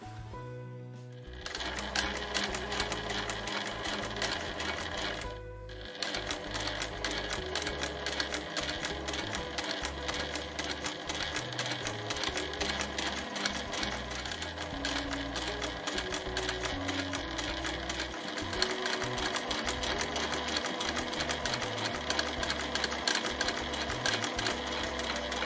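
A sewing machine stitches a fur round tote bag in a fast, continuous mechanical chatter that runs steadily for over twenty seconds, with one brief pause near the start.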